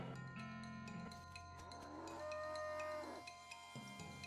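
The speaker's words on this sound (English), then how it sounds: "You hear ominous mooing." Ominous mooing from an infernal cow in the video game West of Loathing, long drawn-out bovine lowing tones layered over a steady game music bed, with no talking.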